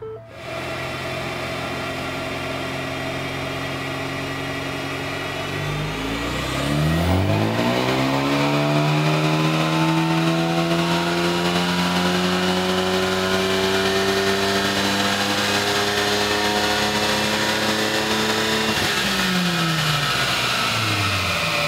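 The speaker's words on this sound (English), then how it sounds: "Here's our first pull with our new Vortech front mount intercooler." A Ford Focus ST with a Vortech front-mount intercooler roars on a dyno, idling briefly before the engine climbs in a long, loud, steady rising rev through the pull, then drops sharply near the end.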